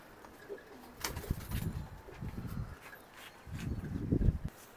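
Pigeons of breeds such as military, Pankhi, Bezi and Giribaz coo in two low, rumbling bursts, the second louder and closer, with faint wing shuffling and no talk.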